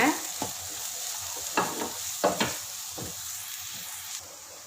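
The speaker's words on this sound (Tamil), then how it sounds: "வெங்காயத்தை உள்ளே சேர்த்து லைட்டாக வதக்கிக்கோங்க" Chopped onions sautéing in a pan for tapioca adai: a quiet, steady sizzle broken by several sharp scrapes and clatters of stirring.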